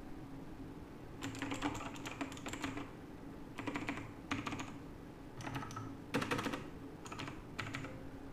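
Clicky blue switches on an Azio MGK L80 mechanical keyboard clatter in several quick bursts of typing, sharp and close, with short pauses between runs and no voices.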